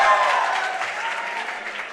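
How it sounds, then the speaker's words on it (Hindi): An audience at a college MCA induction program breaks into loud, dense applause. The clapping fades gradually over a couple of seconds. "ये जो इतनी ज़ोर ज़ोर से सीटियाँ बज रही हैं, तालियां बज रही हैं"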